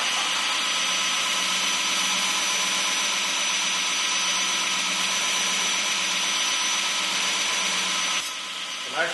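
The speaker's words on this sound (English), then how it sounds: "I'm actually using the side of the actual belt to cut my plunge in" Belt grinder cutting a plunge line into a knife blade with the side of the belt, a loud continuous abrasive whine and rasp held steady throughout, dropping off briefly near the end.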